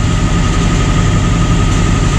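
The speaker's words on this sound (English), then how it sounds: "Oh, there's a little rattling." A boat's engine idles loudly and continuously with a low rumble and a fine, steady rattling texture from an unknown fault, close by and unbroken.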